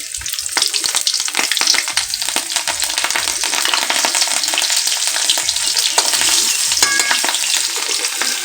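Green chillies and panch phoron spices crackle and sizzle in hot oil in a wok, a dense, steady frying hiss with sharp spitting pops throughout, close and loud, with no voices.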